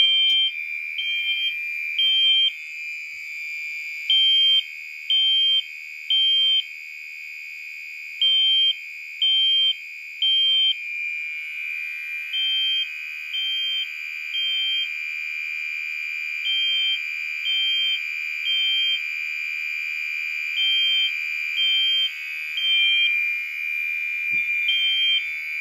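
A loud, continuous electronic fire alarm tone from a Fire-Lite MS-4424B panel after a pull station is activated, with a pulsing beep pattern layered over it, persisting steadily throughout with no voices.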